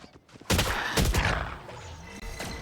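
Rapid bursts of gunfire shooting through a wall in a tactical shooter match, dense crackling shots that start abruptly and continue in a loud, close volley.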